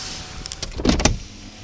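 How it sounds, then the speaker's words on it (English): Power windows on a 2008 Chevrolet Impala LS whir as the front glass rolls up and down, a short close motor hum with a couple of rising surges and stops, no talking. "Front windows roll up and down"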